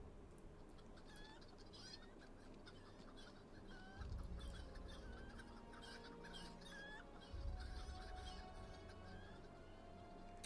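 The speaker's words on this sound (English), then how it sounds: "I swear to God, I'm gonna go chase those chickens all over the place." Chickens in a video game cluck and chirp faintly in short scattered calls over a dense, steady background of game sound, and two low rumbling thumps swell up partway through.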